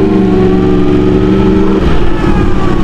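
A tuned motorcycle fitted with a full exhaust revs loudly up close, its engine note rising and falling in a continuous snarling drone.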